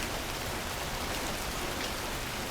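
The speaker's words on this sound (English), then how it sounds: "Rain still falls outside." Steady rain falls outside on a city pavement, a soft continuous hiss of drops on hard surfaces, even and close, with no voices.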